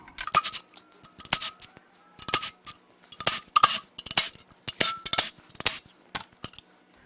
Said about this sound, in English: Now we'll remove the pickup and this baffle.